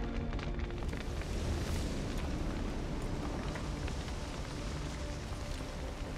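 A burning manor in the video game The Witcher 3, a dense continuous roar of fire with rushing, rain-like crackle and low rumble, loud and unbroken throughout.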